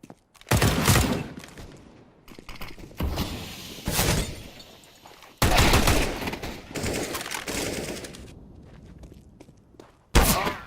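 Counter-Strike gunfire in bursts: loud rapid rifle volleys and single shots separated by short quieter gaps, with thuds and footsteps in between.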